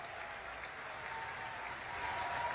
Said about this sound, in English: that was the applause the crew of the U.S. aircraft carrier Theodore Roosevelt gave to their captain, Brett Crozier, as he was leaving the ship for the last time